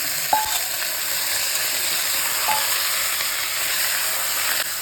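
Mutton pieces fry in hot oil in a pan for a thanni kulambu, giving a steady close sizzle and hiss throughout, with a few faint stirring clicks and no talk.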